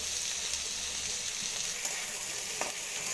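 Chopped garlic, onion and long strips of potato fry in a pan with a steady, close sizzle, and faint stirring scrapes sound now and then.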